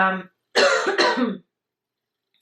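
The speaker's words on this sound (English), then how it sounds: "I'm gonna try to cut out as many coughs as possible" Two bursts of harsh, close coughing from a woman ill with Covid-19, the second a double cough, separated by brief silences.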